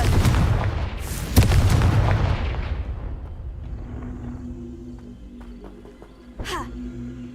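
A Confringo fire spell in Hogwarts Legacy erupts in a loud, close blast with a booming low rumble that slowly fades, followed by a sharper, quieter burst near the end.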